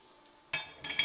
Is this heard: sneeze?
no